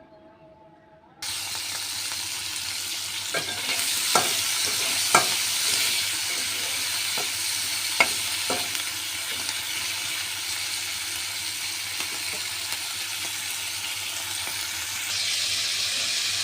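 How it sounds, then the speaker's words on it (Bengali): Shrimp fry in a pan of oil with a loud, continuous sizzle that starts abruptly, broken by several sharp clacks and scrapes of a utensil stirring, close and steady throughout. "মাছগুলো ভেজে নেব।"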